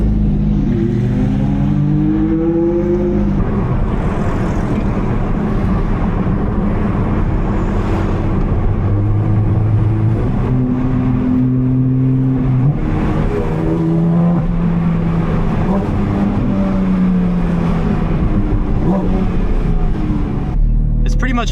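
A Porsche GT4 RS engine with a full titanium valvetronic exhaust revs repeatedly, rising and falling in pitch with a deep, throaty exhaust note, close and loud throughout.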